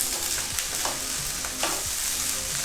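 Pineapple stir-fried into prawn fried rice, a close steady sizzle with repeated quick scrapes and tosses of a spatula in the pan, no voices.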